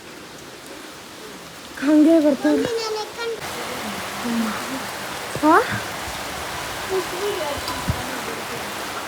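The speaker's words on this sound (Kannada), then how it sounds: "ಮಳೆ ಮಳೆ ನೋಡಿ, ಏನು ಜೋರು ಮಳೆ ಸ್ಟಾರ್ಟ್ ಆಗೋಯ್ತು." Heavy rain pouring down outdoors, a steady broadband hiss throughout while people talk over it.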